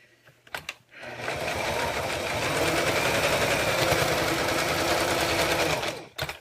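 A sewing machine stitches a zipper pouch in one steady, close, continuous run of about five seconds, with brief handling noises before and after.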